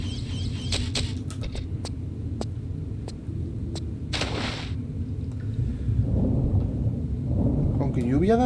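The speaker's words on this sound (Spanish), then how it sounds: "Y mira qué raro que haya una tormenta aquí." Thunder rolls and rumbles through a stormy scene in the Tomb Raider video game, with rain hissing underneath and a steady low hum, several sharp cracks standing out early on.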